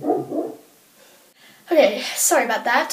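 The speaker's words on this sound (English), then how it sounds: "And I'm sorry about my dog. He's barking." A pet dog gives a brief bark or two at the start, then someone speaks over a quiet indoor room.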